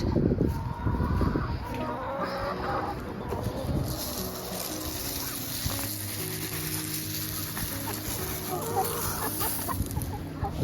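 Chickens on a farm during a morning routine cluck and murmur close by, with busy overlapping clucks and calls at moderate level over a steady rustling background and no clear speech.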